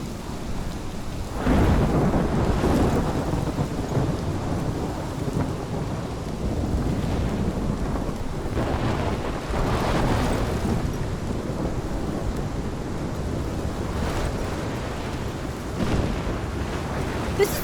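Thunderstorm in the Life is Strange video game: loud, continuous heavy rain and wind with repeated rolling thunder swells throughout, no talking.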